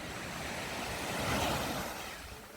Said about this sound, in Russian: И вот это пляж.